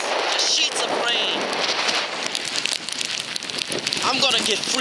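Heavy rain pours steadily during a rainstorm in the Bronx, New York, a dense, continuous hiss of drops on surfaces, loud and close, with wind buffeting the microphone and brief voices in the background.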